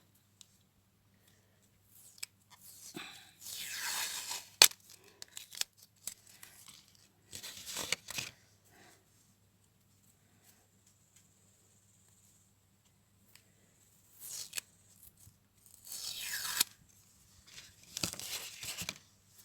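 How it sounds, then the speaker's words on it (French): Thick washi tape is pulled off its roll and torn in several short, crackling bursts separated by quiet pauses, up close and alone. "Du gros washi tape qui se déroule pas"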